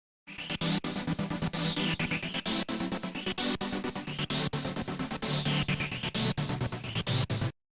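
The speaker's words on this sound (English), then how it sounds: "that's a rhythmic pad." An LMMS synth pad gated into fast rhythmic pulses, with a sweeping high-resonance filter rising and falling; steady and loud throughout.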